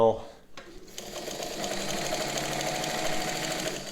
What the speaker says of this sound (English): here she is back tacking. I hit the accelerator hard and it went flying, so you can sew quickly